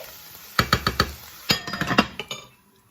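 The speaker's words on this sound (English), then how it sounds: "I'm going to let this cook down until the tomatoes go a little bit mushy" Tomatoes and onions cook down in a pan for a chicken curry, heard as quick metallic clinks and scrapes of a utensil stirring against the pan over a soft background sizzle.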